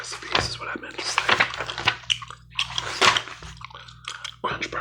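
Gum chewing sits close up in a whispered ASMR session, with moist smacking bursts coming irregularly, mixed with soft whispered speech.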